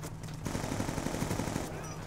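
A SCAR rifle fires a rapid automatic burst in Call of Duty Black Ops 2, a quick string of evenly spaced shots lasting about a second amid game ambience, with no talk.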